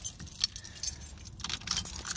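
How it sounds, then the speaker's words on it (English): Metal keys on a breakaway keychain jangle and clink close by in a short, busy burst of bright rattling, with a faint low hum beneath. "Take some of these keys off. Got this keychain breakaway."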